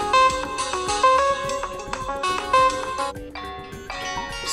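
A pre-installed Modern ringtone on an Oppo A78 phone plays a bright, repeating electronic melody with steady synth notes and a dance beat, clear and alone with no talking.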